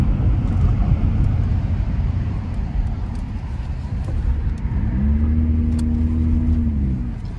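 Heavy traffic passing near a college housing area, a continuous low rumble of car engines and tyres, with one vehicle's droning tone rising and sweeping past toward the end.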